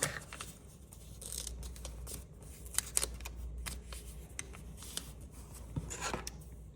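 Paper folded back over a cardboard edge during foundation paper piecing of a quilt block, heard as close, soft crinkles, rubs and short crisp creases with no talking.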